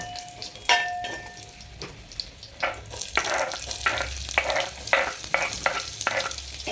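Garlic fries in a hot pan with a steady crackling sizzle. Several sharp scrapes and taps from stirring break through it, growing busier toward the end, with no talking.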